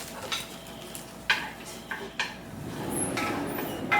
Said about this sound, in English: I'm just going to give those a saute in that bacon grease.